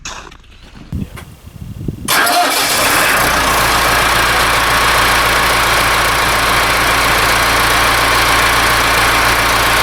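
A few clunks and rustles, then the heavy diesel engine of a 1998 Landini Blizzard 85 tractor, 80 horsepower, starts and settles into a loud, steady rumbling idle close by, in snow.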